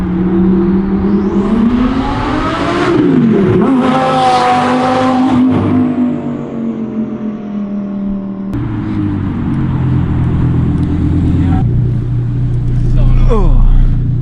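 Modified twin-turbo Audi R8 V10 and Ford Falcon with a Barra engine at full throttle, engines roaring and revving loudly with rising and falling pitch, possible tire squeal, and people talking over the noise.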